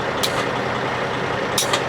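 A large truck engine rumbles steadily at close range, with a couple of brief hissing bursts cutting through the drone.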